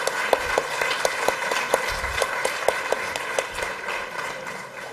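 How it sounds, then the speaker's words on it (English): Steady crowd applause at a university convocation ceremony, many hands clapping continuously, a few sharper claps standing out, sustained throughout without a break. "Give them a very big applause, everybody."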